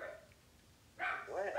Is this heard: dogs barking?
yes